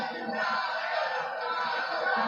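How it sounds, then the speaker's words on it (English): Boxing arena crowd at Julio Cesar Chavez vs Edwin Rosario roaring through the first round, a steady, massed wall of cheering and shouting from a large audience, loud and unbroken. "the crowd, after sitting on its hands through the entrance of the fighters and the introductions, has now gotten right into it in the first round"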